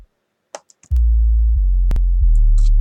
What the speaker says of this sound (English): let's go into the bass. I'm using the Southside 808